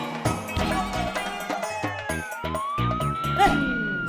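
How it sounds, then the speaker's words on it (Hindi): Police jeep siren wailing with a rising and falling pitch, heard over a busy musical background in a comedy scene. "मतलब ये सायरन की आवाज कहाँ से आई?"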